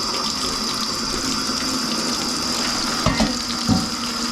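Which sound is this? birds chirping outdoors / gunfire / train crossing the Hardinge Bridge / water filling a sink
water filling a sink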